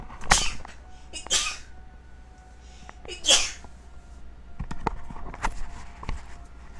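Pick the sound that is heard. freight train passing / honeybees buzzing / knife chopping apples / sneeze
sneeze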